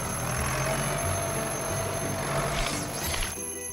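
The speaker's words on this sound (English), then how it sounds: "That's just your alarm telling you to rest." An electronic alarm rings continuously with a high, warbling tone over a steady background hum, growing chirpier near the end; no one speaks.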